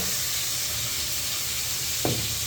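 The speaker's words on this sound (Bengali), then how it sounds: "প্রথমে দিয়ে দিলাম পেঁয়াজ, এরপরে পেঁয়াজটারে একটু হালকা লাল করে তারপরে বাকিগুলো দিয়ে দেবো।" Chopped onions fry in oil in a cooking pot as a Bengali masala base, giving a steady broadband sizzle that runs throughout, with one brief clink near the end.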